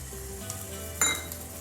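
Capsicum, cabbage and corn sizzle in a few teaspoons of hot oil in a pan for white sauce pasta, a steady close frying hiss with a brief clink of a utensil midway.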